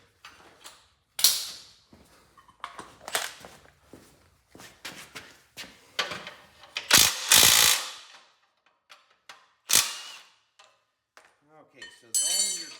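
Big wrenches work loose nuts and a lock nut on the dash of a Cub Cadet 2284 garden tractor, giving scattered metallic clinks, ratcheting and clanks with pauses and shuffling movement between them.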